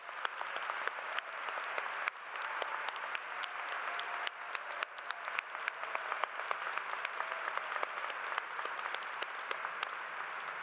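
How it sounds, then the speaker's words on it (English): Sustained applause from a commencement crowd honoring faculty and staff, dense steady clapping at a moderate distance lasting the whole stretch without a break. "graduates, let's give them a round of applause for all they've done to support you"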